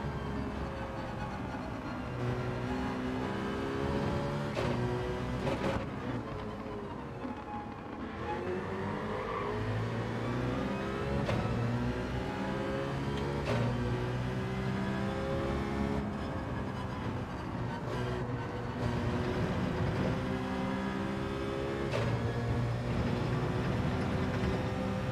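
Citroen race car in Gran Turismo 7 running on low fuel, its engine note rising and falling through repeated accelerations and gear changes, loud and continuous throughout with no talk.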